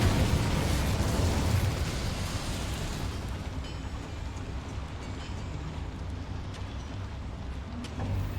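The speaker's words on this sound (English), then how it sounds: "Incendio." The Incendio fire spell is cast in Hogwarts Legacy, giving a loud, roaring burst of flame that rumbles for about three seconds before settling into a steady crackling hiss that carries on to the end.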